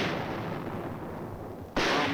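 A heavy mortar company keeps up a continuous bombardment with 4.2-inch shells in a wartime hill assault. Heavy, rumbling blasts fill the clip, with a sharp new impact near the end.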